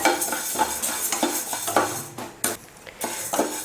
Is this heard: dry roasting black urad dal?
yes